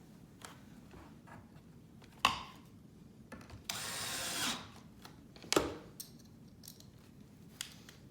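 Pocket holes are drilled into wood for a farmhouse corner bench: one short, whirring drill burst stands out among sharp clicks and clatter of handling, recorded close in a quiet room.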